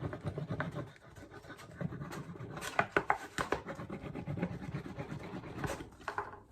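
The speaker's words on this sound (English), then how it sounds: "I'm getting my wax, and really you just rub it all over the thing that you've got" Wax being rubbed by hand onto a wooden plug for a fibreglass mould, heard as a continuous close scratchy rubbing and scuffing with a few sharper strokes and taps.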